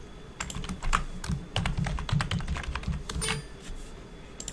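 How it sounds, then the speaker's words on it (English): Fingers tapping on a computer keyboard in a quick, uneven stream of light clicks over several seconds, close by and alone with no talk. "Let's type that."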